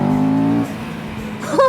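A Chinese motorcycle engine revving as the throttle snaps open, a strong harmonic drone that cuts off abruptly, then a quieter idle and a sharp rising burst of revs at the end.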